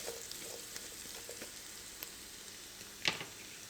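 Diced onion, green scallions and red pepper fry in a pan with a steady close sizzle and faint crackle, broken by a few light ticks and one sharper clack of a utensil near the end.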